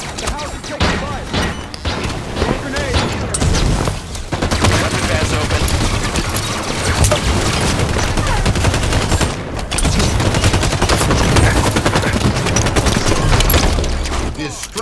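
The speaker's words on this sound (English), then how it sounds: "The house is taking fire." Dense, continuous gunfire from a Halo 5: Guardians Slayer match, loud rapid bursts and repeated shots layered with game voice callouts.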